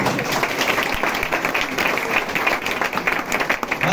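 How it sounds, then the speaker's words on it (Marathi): Audience clapping for two people called up on stage at a Mi Lifestyle gathering in Amalner: a dense, steady wash of many hands at fairly even loudness, running for the whole few seconds. "जोरदार क्लॅपिंग झालं पाहिजे या दोघांसाठी"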